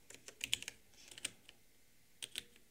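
Code is typed on a computer keyboard in quick, uneven bursts of crisp key clicks, with a cluster of taps, a brief pause, then a few more keystrokes, close and fairly quiet with no talking.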